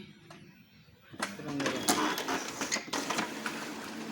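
An Epson L220 inkjet printer tries to pull in photo paper that keeps slipping. Quiet at first, then a burst of whirring, clicking and rattling feed-mechanism noise with irregular knocks, close by.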